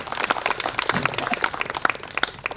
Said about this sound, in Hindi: ये बजा लीजिए, तालियां बजा लीजिए, दिल से बजाइए